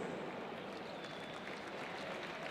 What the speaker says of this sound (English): A huge round of applause for Moritz and all of our rainbow jerseys.